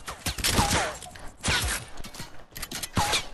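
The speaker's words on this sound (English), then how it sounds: "He shoots at me." Video game gunfire in a multiplayer shooter match: three bursts of rapid, loud shots, each a dense clatter of cracks with mechanical rattling, close and without talk.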